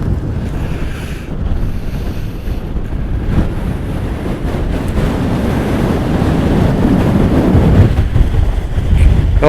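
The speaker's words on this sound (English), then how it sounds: "Oh, I can't even stand up, the wind is horrendous." Strong wind roars across an exposed hilltop at Cunyan Crags in the Northumbrian hills, buffeting the microphone in a loud, continuous rushing gust that builds steadily with no voices.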